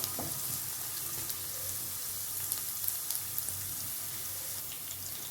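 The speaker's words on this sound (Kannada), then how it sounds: "ಸ್ವಲ್ಪ ಇದನ್ನು ಫ್ರೈ ಮಾಡ್ಕೊಳ್ತಾ ಇದ್ದೀನಿ" Dill leaves frying in oil in a pan for a North Karnataka style stir-fry, a steady close hiss and crackle with small popping bursts and faint stirring, no talking.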